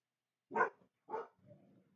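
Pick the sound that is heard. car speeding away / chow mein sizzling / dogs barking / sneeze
dogs barking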